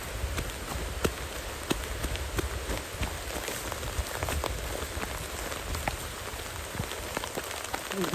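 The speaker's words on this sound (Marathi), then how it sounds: "पाऊस आला आहे." Steady monsoon rain pours down, a dense close hiss with constant drops pattering on surfaces.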